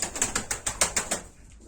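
Young, still-downy pigeons in a loft give a quick run of soft repeated flutters or pecking taps, about eight evenly spaced pulses, close and fairly quiet, fading out at the end.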